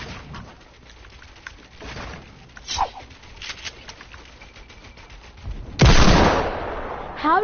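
Gunfire in Fortnite: a few scattered, sharp shots at low to moderate level, then one loud, close blast near the end that rings out and decays, over a quiet background.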